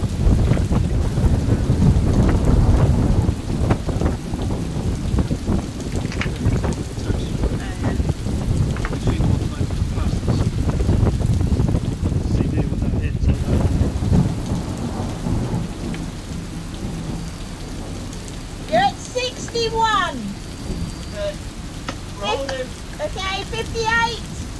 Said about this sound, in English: There's rain coming.